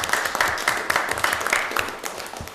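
People at a city council meeting clap together in a short, close burst of brisk, uneven applause that tapers off after a couple of seconds.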